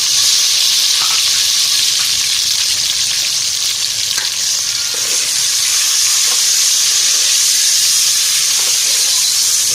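Tomatoes, chilli and other vegetables sizzle in a pan of lightly browned onion masala, a steady, dense hiss of frying that runs unbroken throughout with no voices.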